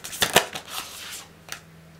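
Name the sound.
shuffling tarot cards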